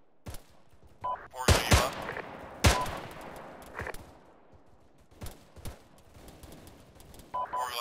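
Bursts of gunfire ring out in sharp clusters of loud cracks at irregular intervals, some close and punchy, others more distant, while someone briefly speaks between volleys.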